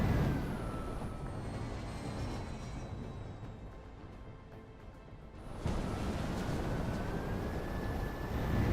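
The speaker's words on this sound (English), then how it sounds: "you can hear the engines turn off when you hold back all the way" Aircraft engines in the Halo 3 video game whine and rumble, then drop away into a quieter lull around the middle before the engine roar surges back up abruptly and continues, with no voices.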